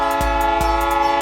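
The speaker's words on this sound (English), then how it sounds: "Excuse the train." A passing train sounds its horn, a loud sustained chord with steady pulsing rumble from the wheels underneath, close and continuous.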